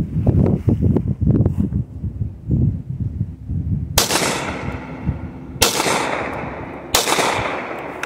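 Springfield Prodigy pistol fired at 5 yards, three loud sharp close shots spaced about a second or more apart, each with a short ringing tail, after a stretch of handling noise and movement.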